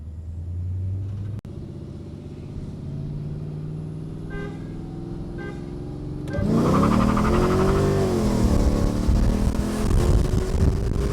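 A Mercedes E55 AMG W211 idles and cruises with a low engine drone, then accelerates hard as the engine roars louder and climbs in pitch inside the cabin, with no talking.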